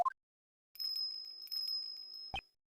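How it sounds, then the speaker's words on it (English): A small bell on a dog's collar jingles in the video game Ace Attorney Investigations 2, a bright tinkling ring that sounds twice in short sustained bursts against near silence, with a few short game blips around them. "It's a bell on its collar."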